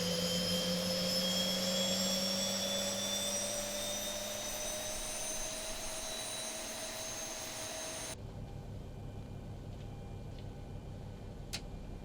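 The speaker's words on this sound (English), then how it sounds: "There's the engine coming alive." The engine of a Boeing 737-800 spools up during startup in the X-Plane 11 flight simulator, with a rising whine and steady roar. The sound then drops abruptly to a quieter, steady hum and a faint click.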